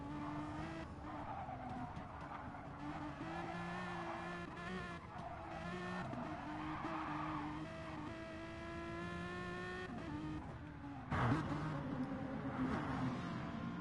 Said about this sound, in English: Nass again goes hard into a barrier there